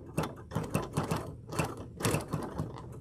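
Sewing machine stitching quilt pieces cut from a charm pack, giving quick close rhythmic bursts of needle clatter with brief pauses between them.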